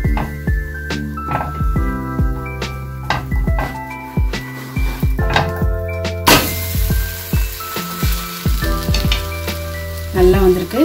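Masala bun dosa fries in oil in a pan, with a loud, close, continuous sizzle, repeated thunks and clinks of a utensil and lid, and the crackle swelling midway.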